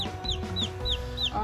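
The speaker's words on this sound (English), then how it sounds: "All these chicks are 1 day old." One-day-old backyard chicks cheep in quick repeated high chirps, several peeps sounding close together over a steady low background hum.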